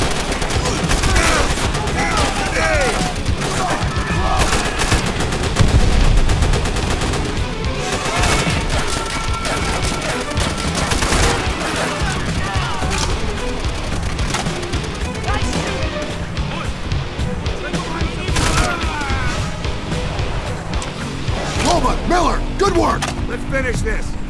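Heavy gunfire from Call of Duty: World at War, a WWII campaign battle, keeps up dense bursts of rifle and machine-gun shots with crashes and impacts, loud and unbroken, while shouted voices cut through the fighting.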